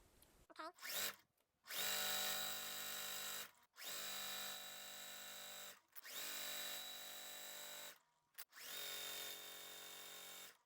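Sewing machine stitching a quarter-inch seam on a quilt block, running in four steady bursts of about two seconds each with short pauses between, close and loud, with no talking.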